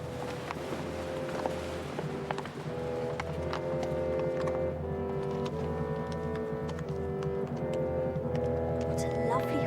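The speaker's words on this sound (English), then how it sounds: "What a lovely horse." Horse hooves clip-clop steadily beneath a constant wash of music and crowd noise, with voices talking throughout.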